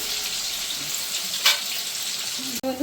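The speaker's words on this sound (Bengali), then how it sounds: "আলুটা একটু হালকা আমি ভেজে নেব" Potato pieces fry lightly in a pan for a Bengali jackfruit-seed curry, giving a steady close sizzle with a brief flare of crackle midway and a clink near the end.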